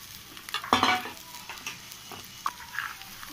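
Ginger pieces sizzle and crackle in a pan over a medium flame for ginger pickle, with a burst of frying noise early on and spoon scrapes and stirring clinks scattered through, with no talking.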